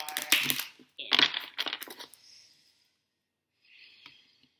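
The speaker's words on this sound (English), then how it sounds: "one more shuffle and then we are in" Tarot cards shuffle in quick papery riffles and flutters, with two close bursts of rapid card slaps followed by a softer fading rustle, alone and nearby.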